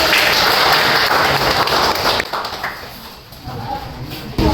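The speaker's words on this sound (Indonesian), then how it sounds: "mulai tepuk tangan dulu." A classroom of students claps hands together, loud and busy for about two seconds before thinning out to scattered claps and quieter room noise, with a brief burst again at the end.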